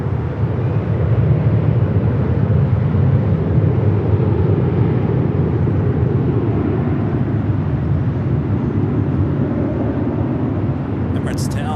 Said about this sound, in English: This is United Airlines 1069 taking off to Chicago O'Hare on the